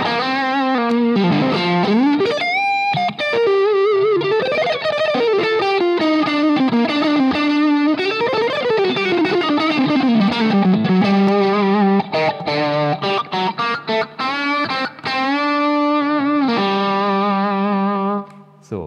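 Electric guitar through an AMP1 amplifier on its vintage channel plays a sustained, overdriven lead line with bends, vibrato and quick runs, loud and close with chorus and echo effects, no voice.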